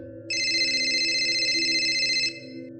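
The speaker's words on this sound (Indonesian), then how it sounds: "Suara telepon dari HP kakak perempuannya berbunyi" A mobile phone rings with a steady electronic tone that holds for about two seconds over a sustained background melody, loud and close, then cuts off.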